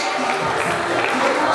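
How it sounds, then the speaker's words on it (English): Audience applause at a Pacific Islands anniversary celebration in Auckland, a steady dense wash of clapping from a crowd, fairly loud and continuous throughout with no clear pauses. "Another big round of applause for our Matua."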